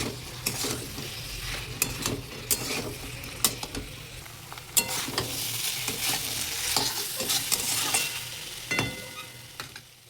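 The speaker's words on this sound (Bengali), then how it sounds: "এবার এর মধ্যে আমরা চিকেনগুলো দিয়ে দেবো। এবার সবগুলো একসাথে মিশিয়ে নেব।" Dragon chicken stirred and fried in a pan, a constant sizzle broken by frequent sharp scrapes and clacks of the spatula against the pan, close and busy throughout.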